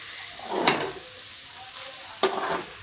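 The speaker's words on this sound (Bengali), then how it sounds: "সয়া সসটা দেওয়ার পরে ভালো করে মিশিয়ে নেবো" Egg chow mein stirred in a pan after adding soy sauce, two sharp scrapes and clinks of a utensil over a soft, faint sizzle.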